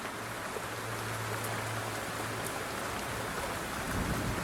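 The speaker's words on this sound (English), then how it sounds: "All you need to do is listen to the rain" Steady, dense rainfall hisses evenly, with a low rumble of thunder underneath for the first few seconds.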